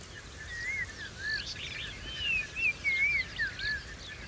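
Thin, whistled bird notes repeat in short phrases over a soft outdoor hiss in the African savanna, fairly distant and faint.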